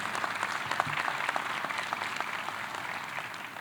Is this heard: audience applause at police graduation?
yes